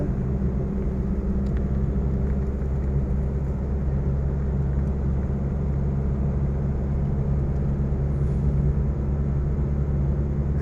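A manual-gear pickup truck drives on a narrow road with heavy traffic during a driving lesson. Its engine gives a steady, loud low-pitched rumble heard from inside the cab, with little change through the clip. No one speaks.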